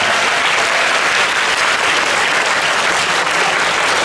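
A high school assembly audience breaks into loud, dense applause that runs continuously throughout, many hands clapping in a large room with no pauses.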